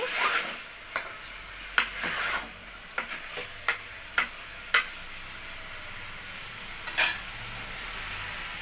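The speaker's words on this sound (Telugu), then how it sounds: "చూడండి, బాగా ఫ్రై అవుతూ ఉంది." Chicken pieces fry in a pan with a soft, steady sizzle, punctuated by several sharp clicks and taps of a utensil against the pan.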